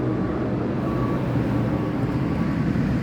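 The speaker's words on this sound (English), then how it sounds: "Oh, they're coming to pick up the trash." A garbage truck collecting trash outside, heard as a steady low engine rumble with broadband noise, continuous and fairly distant throughout.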